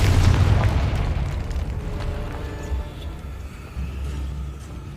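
A loud Confringo fire-spell blast from the video game Hogwarts Legacy bursts at the start with a heavy low boom, then fades into a rumbling tail with a smaller thud near the end.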